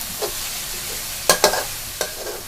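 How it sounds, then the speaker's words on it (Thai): Garlic stir-fried in a hot pan, part of cooking a dry spicy catfish stir-fry, sizzles steadily while a spatula scrapes and knocks the pan in a few sharp, close strokes. No one speaks. "ผัดให้กระเทียมเหลืองนะคะ"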